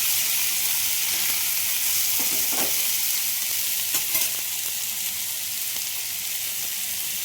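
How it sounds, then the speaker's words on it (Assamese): Potatoes sizzle steadily in a hot pan for a paneer and vegetable curry, with a spatula scraping and stirring through them in a few short strokes, close and continuous with no voices. "আলু দিলোঁ, অকণমান লৰাই দিছোঁ।"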